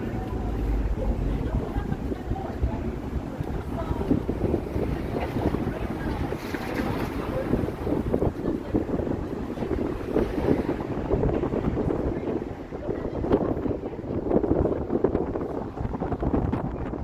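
Strong wind gusts roar through a downtown Toronto street, a loud, continuous buffeting rumble that batters the microphone throughout, with faint city sounds beneath.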